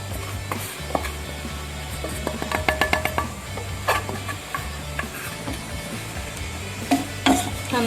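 Wheat flour being stirred into boiling water in a pot for pathiri dough, with scraping and knocking of a utensil in irregular bursts over a low background hum, no voices.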